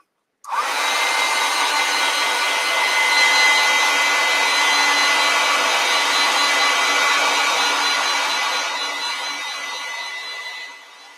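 Hair dryer blowing over a wet watercolor painting, switched on abruptly and running as a loud, steady close whoosh for about ten seconds before easing off slightly near the end, with no talk.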